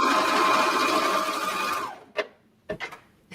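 A serger overlock machine stitches leggings fabric in a steady, dense whir for nearly two seconds, then stops, leaving a few short clicks and handling noises.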